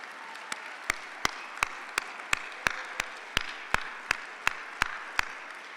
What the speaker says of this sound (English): They deserve so much more than a raucous round of applause